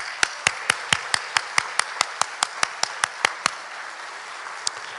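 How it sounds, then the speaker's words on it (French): Graduation ceremony audience at Collège Boréal in Timmins gives a short round of sparse, evenly spaced claps, roughly a dozen distinct sharp hand claps close by over a quiet room, thinning to one last clap. "Une bonne main d'applaudissements pour ces gens."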